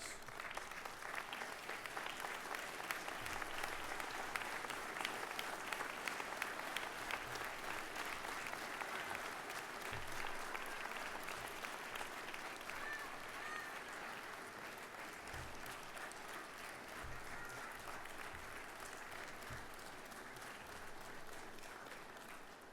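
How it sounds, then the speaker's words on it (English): Sustained applause from a large crowd at a graduation ceremony, a dense, even clapping that lasts over twenty seconds and fades slightly toward the end. "Please rise and give them a round of applause."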